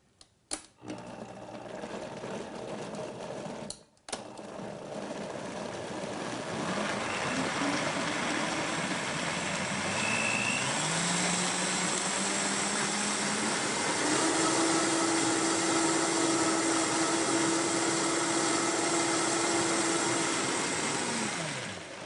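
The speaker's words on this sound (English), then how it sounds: "Okay, we're just going to blend this now." A blender purees a cashew salad dressing, starting after a few clicks and brief bumps, then settling into a loud, steady motor whir that rises in pitch and stays continuous for many seconds without talk.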